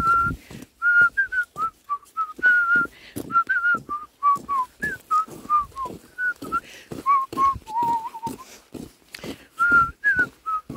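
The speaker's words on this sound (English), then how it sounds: "Whistle." A child whistling outdoors, a long run of short wavering whistled notes in an uneven rhythm, close and fairly loud, between thumps and shuffling sounds.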